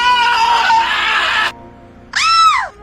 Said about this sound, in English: When is a scream just a scream? There are a lot of screams.